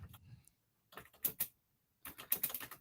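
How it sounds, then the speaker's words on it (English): Someone taps rapidly on a computer keyboard, close and fairly quiet, in short bursts of quick clicks separated by brief pauses. "Get to cut out Neil tapping furiously on his keyboard."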